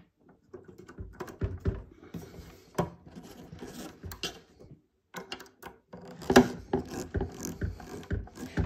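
Screws are tightened by hand on a Nissan Skyline GTR scale model kit, giving a series of small clicking, ratcheting taps close up in irregular bursts with brief pauses between them.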